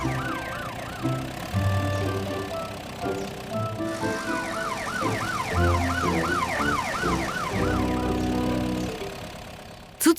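A wailing police siren sweeps up and down repeatedly, loud and continuous, over a low engine rumble with some clattering in the background.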